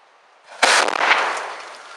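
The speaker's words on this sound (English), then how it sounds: "I think my box cutter blew about 30 feet up" A thermite box-cutter device on a steel column blows up with one sudden loud bang, followed by a roaring, hissing burn that fades over about a second.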